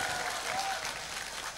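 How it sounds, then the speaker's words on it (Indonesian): An audience applauds for Charlie at a lively Islamic sermon gathering, a brief, steady burst of clapping from a crowd that stays even throughout. "Tepuk tangan untuk Charlie"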